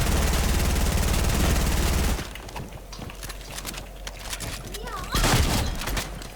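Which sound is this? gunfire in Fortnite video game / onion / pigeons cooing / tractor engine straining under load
gunfire in Fortnite video game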